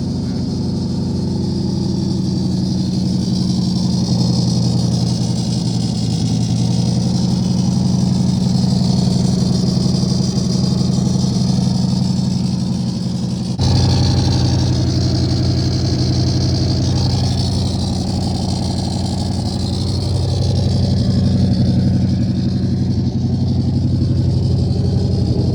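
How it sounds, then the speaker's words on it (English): A turbocharged Coyote V8 in a Foxbody running with a steady, loud mechanical drone, a faint squeal from a worn tensioner bearing woven into the constant engine hum. "We got one of the bearings on the tensioners is what's squealing."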